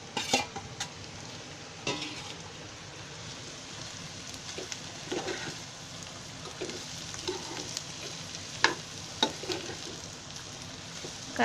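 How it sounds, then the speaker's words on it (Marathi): Bitter gourd fries with onions in a pan, giving a steady soft sizzle broken by intermittent scraping stirs of a spoon, close and moderately loud with no voices. "आता मी त्याच्यामध्ये कारली टाकते."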